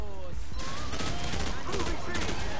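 Rapid bursts of M16 rifle hip fire in a video game, loud and continuous automatic shots over game background sound, with someone talking briefly.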